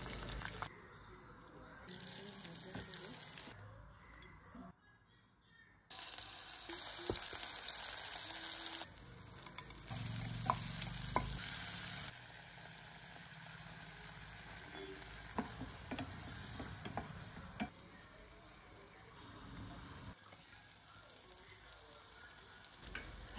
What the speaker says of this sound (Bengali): পটলটা আমি খুব ভালো করে মানে অনেকটা তেলের মধ্যে ভাজা করে নিলাম